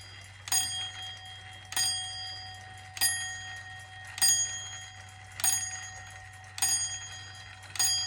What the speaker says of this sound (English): The 3-second bell sound at the end is for the 3/4 hour